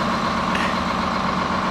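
A 1980 Crown Supercoach converted American school bus engine runs at a steady idle just after a starter motor repair, a continuous close rumble with no talk over it.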